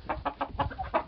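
Roosters and other poultry cluck in short repeated bursts close by on a farm, about five loud calls in quick succession with no talk.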